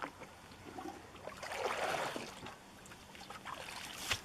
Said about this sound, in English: I'll put a little bit of water in it.